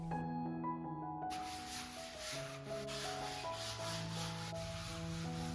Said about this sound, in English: That's why we sand all our fabric until such small crumbs appear.